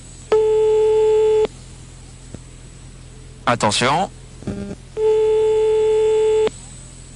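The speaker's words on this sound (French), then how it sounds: "On fait sonner de nouveau le portable" A mobile phone rings in a radio studio, giving two long electronic tones separated by a pause, loud and close, with a short spoken word and a few brief sounds between the rings.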